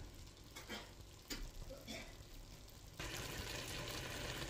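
Chicken adobo sizzles and crackles in a pan with occasional stirring scrapes, a steady close frying hiss that grows louder and denser toward the end.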